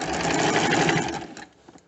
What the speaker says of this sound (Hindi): इसकी सिलाई के लिए मशीन थोड़ी तेज़ चलानी होगी